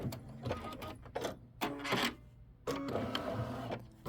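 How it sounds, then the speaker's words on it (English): An embroidery machine stitches a quilt block, producing bursts of rapid needle whirring and mechanical clatter separated by short pauses, close and loud with no voices. "Once it's done stitching on the very top, you're just going to hit the start stop button."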